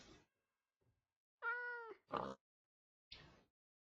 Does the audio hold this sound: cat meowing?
yes